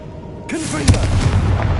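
Confringo blasting spell in Hogwarts Legacy, a sudden booming burst followed by rumbling crackle, loud and close, with a voice speaking briefly just before the blast.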